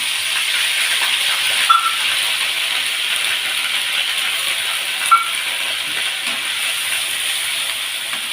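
Ground garlic, ginger and onion paste sizzles in hot oil, a loud continuous hiss filling the space, with two brief clinks partway through.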